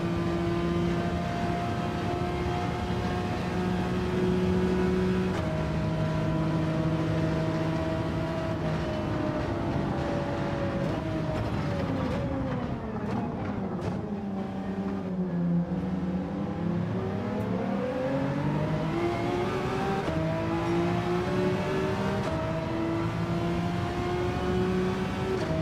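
A race car of almost 800 horsepower drives in Gran Turismo 7. Its engine drones steadily through the gears, dips in pitch through a corner, then revs back up as it accelerates. The engine plays alone, with no voices.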